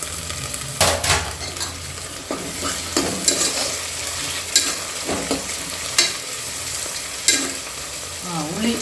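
Masala and tomato fry in a pan for Kerala chicken biryani while a spoon stirs and scrapes against the metal, sharp clanks and scrapes punctuating a continuous sizzle, close and fairly loud with no talking.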